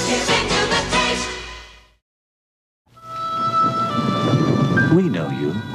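Thunder rumbles and rain falls in a vintage Almaden Chenin Blanc wine commercial. It starts after a brief silence that follows a musical passage, then holds as a loud, steady wash with tonal music layered over it.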